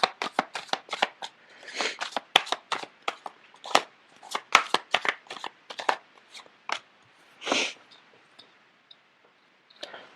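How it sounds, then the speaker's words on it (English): Cards being shuffled close up: rapid bursts of riffling and snapping in irregular clusters, separated by short pauses, with no voices. "The cards are not shuffling too well."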